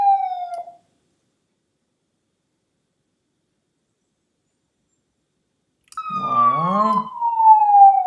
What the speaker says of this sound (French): là, sirène, hop.